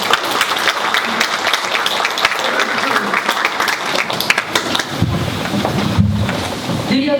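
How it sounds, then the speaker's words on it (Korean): An audience at a welfare forum applauds as a foundation chair is invited to the podium. Dense, loud clapping runs steadily, then thins near the end as a low rumble and a few voices come in. "박수로 맞아주시기 바랍니다."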